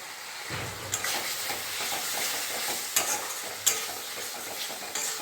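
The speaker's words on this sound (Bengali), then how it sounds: "হলুদ গুঁড়োটা দিয়েও অল্প আমি নেড়ে নিলাম।" Ground turmeric, cumin and coriander frying in a pan while a spoon stirs them, a steady close sizzle with several sharp scrape-and-clack accents from the utensil.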